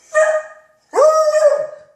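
A small female dog gives two close, loud barks, a short one and then a longer drawn-out one, while barking at sandhill cranes in a backyard.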